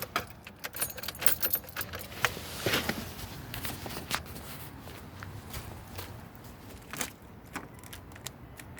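Car keys jangling and clinking as they are handled and slid into the ignition of a 1999–2003 Mitsubishi Galant ES, a faint, close, scattered metallic rattle with light shuffling, no talk.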